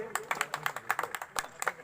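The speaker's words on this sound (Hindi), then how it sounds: "जोरदार ताली से अभिनंदन और स्वागत है।" An audience at a public welcome gathering claps in a quick, uneven burst of sharp, fairly faint claps from a smallish crowd, with a voice audible around it.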